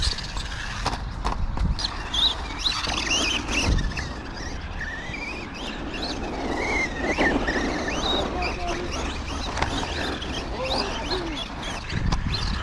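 A Blackzon Slayer RC monster truck drives over rough ground with a continuous whining motor, scrabbling tires and thumping landings from jumps, while a bird chirps in the background.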